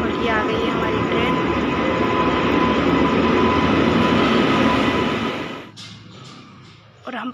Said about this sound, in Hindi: तो हम पहुँच गए कोटा जंक्शन और ये आ गई है हमारी ट्रेन।